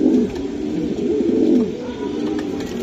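Racing pigeons coo in a steady, close run of low throaty calls that swell and fade in repeated phrases, with no talk over them.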